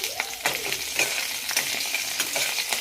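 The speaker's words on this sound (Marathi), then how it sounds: "हिरवी मिरची तेलामध्ये व्यवस्थित फ्राय करून घ्यायची आहे।" Green chillies frying in hot oil with cumin seeds for a potato bhaji, giving a steady, close sizzling hiss broken by a few sharp clinks and scrapes of stirring.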